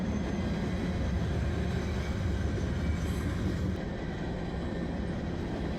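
A mixed merchandise freight train in the Pacific Northwest rolling past, a loud continuous low rumble of wagons with rail noise, steady and close, dropping slightly near the end.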